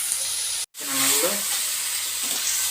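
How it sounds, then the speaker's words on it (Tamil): Chicken with ginger and garlic sizzles loudly in a hot pan for chicken gravy, a steady frying hiss broken by a brief gap and the scrape of stirring, with no talk. "இப்போ இந்த இஞ்சி பூண்டு சிக்கனை நல்லா போடுறோம்."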